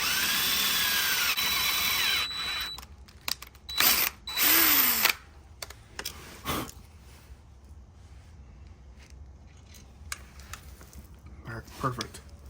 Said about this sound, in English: So this is aluminum, so it drills pretty easily.